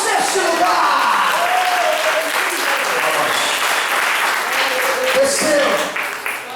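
A large church congregation claps loudly and continuously during a sermon, a dense sustained wave of applause that tapers slightly near the end.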